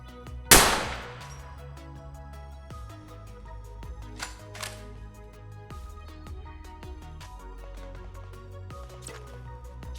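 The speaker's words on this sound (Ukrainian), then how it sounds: "Бо по мені вже стріляють." Gunfire in the military shooter game Arma Reforger, a loud sharp shot near the start followed by scattered fainter distant shots and a few clicks over a steady low game ambience.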